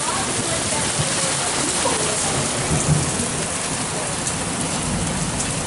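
Heavy rain and hail hammer down in a dense, unbroken roar, with a low rumble swelling briefly near the middle.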